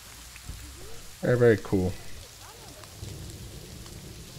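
Rain falls steadily in the video game Planet Zoo, a soft continuous patter under a short burst of speech.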